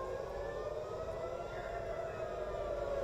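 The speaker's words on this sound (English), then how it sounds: "We'll hear the sirens are now coming." An air raid siren wails steadily in Israel, a sustained held tone heard from a distance, faint and continuous with a low rumbling background and no speech.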